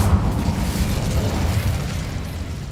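Incendio fire spell cast in the Hogwarts Legacy video game, a low rumbling whoosh of flame that swells quickly and then holds as a dense roar before easing slightly.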